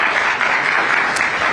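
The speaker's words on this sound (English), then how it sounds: "Big round of applause, please" Conference audience applauding as NSE chief executive Ashish Kumar Chauhan walks on stage, a short burst of steady, loud hall clapping.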